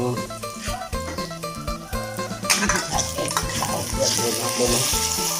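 Hot oil sizzles in a pan as someone cooks at home, a steady loud frying hiss, with a voice talking over it.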